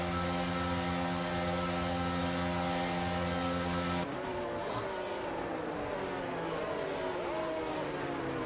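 F1 cars on the formation lap in the F1 22 racing game, a steady loud multi-tone engine drone that shifts abruptly into lower, sliding engine pitches with faint tyre noise.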